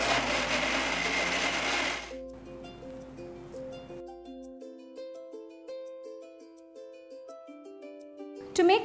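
A loud, steady whirr from a mixer-grinder blending shallots, green chilies, garlic and ginger into paste lasts about two seconds, then stops abruptly as gentle instrumental music carries on.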